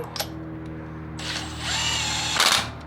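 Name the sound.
power tool tightening wheel lug nuts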